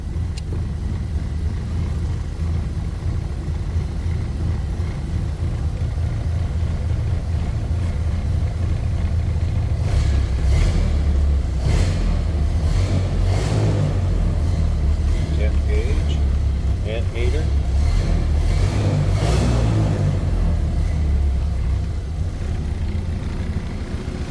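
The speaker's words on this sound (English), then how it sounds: "We're going to throttle it just down to a nice idle." A 1931 Ford Model A four-door sedan's engine idles steadily in neutral, a low continuous rumble running throughout, with a person talking over it in the middle stretch.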